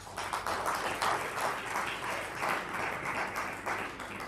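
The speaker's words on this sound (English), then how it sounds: "So give yourselves a round of applause." A gala dinner audience at an anniversary celebration claps in a moderate, slightly uneven burst of applause, with a few distinct claps standing out from the steady patter.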